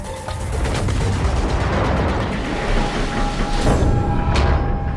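A World of Warships battleship, the USS North Carolina, fires its main guns in a dense, continuous roar of overlapping booms and rumbling cannon fire that stays loud throughout, with one sharper crack standing out near the end.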